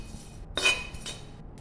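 Roasted rasam powder spices are tipped from a metal pan onto a plate, giving a brief scraping clink and a softer rattle that follows, close up and quiet.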